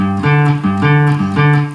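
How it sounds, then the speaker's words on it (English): A guitar picks out a power chord one note at a time, a short repeating two-note pattern of low, ringing tones, played alone. "if I arpeggiated a power chord, it would sound like this"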